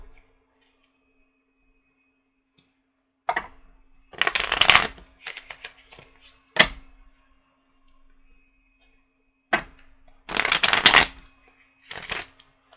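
Tarot cards are shuffled in a few short, crisp bursts separated by quiet pauses, near and clear, with no talking.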